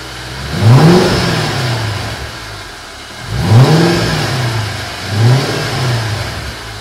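A Porsche 986 Boxster with a swapped-in V8, set up as a track car and suffering oil and power steering leaks, gets three throttle blips. Each blip brings a close, loud rev that rises and falls back toward idle.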